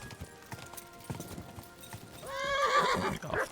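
Horse hooves clip-clop at a steady walk in a medieval video game, fairly quiet, before a horse gives a loud, drawn-out neigh that swells and then fades near the end.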